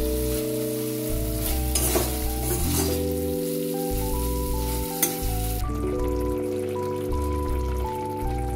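Potatoes fry with cumin and chili powder in a pan, a soft sizzle and stirring running beneath loud, sustained background music tones; no talking.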